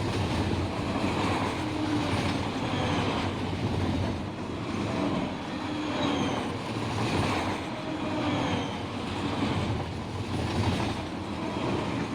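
Long 6,000-foot freight train rolling past in the Run 8 Train Sim video game, a continuous loud rumble of railcars with rhythmic clickety-clack of wheels throughout.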